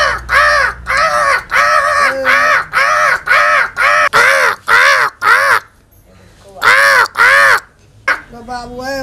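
Harsh, rhythmic caws repeat in steady bursts, loud and close, with a short pause before more calls, resembling crows. The calls may be a person imitating crows in a comedy sketch, and talking follows at the end.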